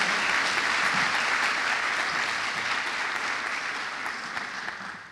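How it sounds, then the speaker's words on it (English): Luncheon audience gives a round of applause, a dense continuous patter of many hands at moderate level that gradually fades out toward the end. "So just a round of applause for Pete"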